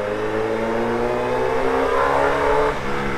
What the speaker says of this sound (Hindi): we have got the full power full system exhaust वाली बाइक